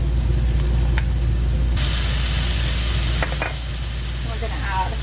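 Potatoes hiss and sizzle in a hot pan, a loud, steady frying crackle that swells as they are added, followed by a few scraping stirs.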